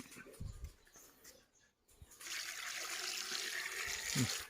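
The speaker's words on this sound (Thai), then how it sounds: "เดี๋ยวผมก็ใส่น้ำหน่อยหนึ่งครับใส่น้ำหน่อยหนึ่งแต่ว่าไม่ต้องใส่เยอะหรอก" A little water poured into a dish while preparing Thai golden apple snail koi, heard as a steady close trickle and splash filling the second half after quieter handling noises.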